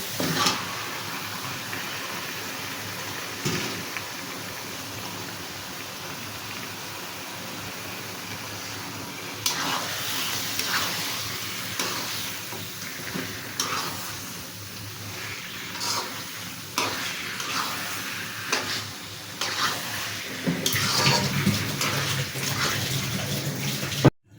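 Chicken pieces go into a pan of cooked-down spices for a potato chicken bhuna, hissing in a steady sizzle with a run of clattering stirs and scrapes in the second half, close by and without talk.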